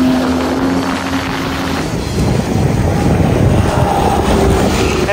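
A jet ski speeds off across the open ocean in a video game, its steady engine drone and rushing water and wind noise building and staying loud and continuous throughout.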